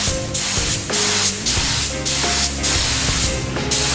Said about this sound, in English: Now I'm going to spray it with some 2K primer